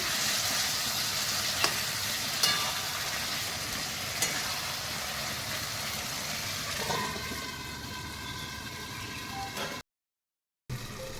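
Desi chicken curry frying in a pan gives off a faint, continuous sizzle, with occasional light clinks as it is stirred and a short moment of silence near the end.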